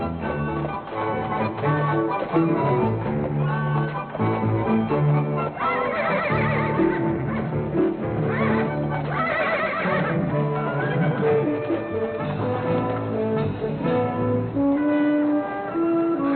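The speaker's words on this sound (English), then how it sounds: "Let's stable our horses, then we can look for the jail." Horses neigh and whinny amid a dense music track in a Wild West cowboy film, the calls rising loud and close over the steady score, with hooves faintly clip-clopping beneath and no talk.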